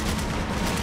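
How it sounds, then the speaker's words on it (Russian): Gunfire in Max Payne 3: a dense, loud burst of rapid shots packed into less than a second, with no gaps between them. "Я просто стреляю, просто стреляю."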